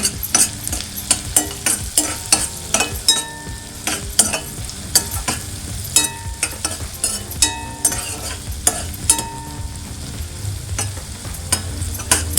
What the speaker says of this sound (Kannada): ಈಗ ಅದು ಹಾಕಿದ ಮೇಲೆ ಸೊ ಕರ್ಬೇವಿನ ಸೊಪ್ಪು ಕೂಡ ಹಾಕೋಣ